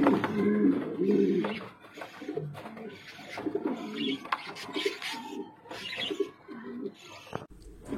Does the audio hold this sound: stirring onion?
no